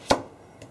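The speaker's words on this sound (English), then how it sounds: "Then cutting it into several chunks." A knife cuts through a potato into chunks on a cutting board for Japanese curry, one sharp close chop followed by a fainter second tap.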